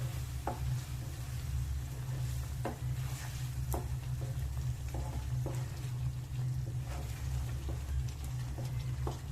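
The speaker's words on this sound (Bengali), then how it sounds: "আবারও ভালো করে আমি মশলাটা আলুর সাথে মিশিয়ে নেব।" Spoon or spatula stirring ground spice mix into potatoes in a pan, with a steady low sizzle underneath and a few soft scraping clicks spread over time, close and continuous, no talking.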